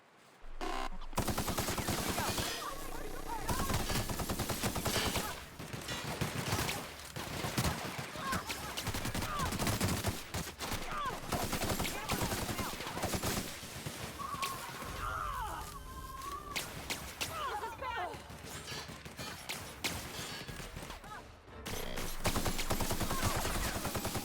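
Rapid automatic gunfire from a gun in the video game The Outer Worlds, with dense, sustained bursts that rattle almost without pause, loud and close throughout.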